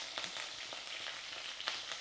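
Mustard seeds, cumin and fenugreek leaves hitting hot oil for an egg curry tempering, a close, steady sizzle with quick crackling pops throughout.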